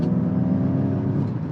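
A Ford Mustang Mach-E GT electric car driving in its Untamed sound mode gives off a steady, fairly loud synthetic hum and whir with a layered tonal drone, heard alone without talk.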